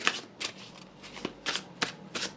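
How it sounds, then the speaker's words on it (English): Overhand shuffle of an oracle card deck, quiet rhythmic riffles of cards sliding off one another, about seven soft bursts close by, with no talk. "as I shuffle overhand"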